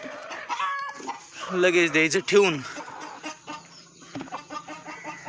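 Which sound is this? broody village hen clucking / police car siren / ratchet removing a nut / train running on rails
broody village hen clucking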